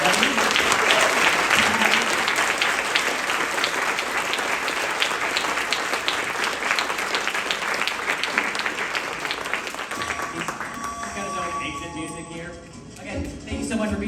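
A large audience gives sustained applause at an evening talk by Imagineer Tony Baxter on the history of Big Thunder Mountain, loud and even, thinning and fading near the end as a few claps trail off.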